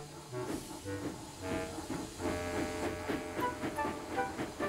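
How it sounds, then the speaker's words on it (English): A steam locomotive pulls away with a goods train, giving soft rhythmic chuffs and hiss that carry on steadily at moderate distance. "As Lizzie puffed away"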